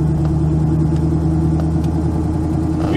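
A Ford Fairmont engine with a C4 automatic transmission that won't shift into drive runs steadily nearby, giving a continuous low rumble with no clear revving or break across the moment.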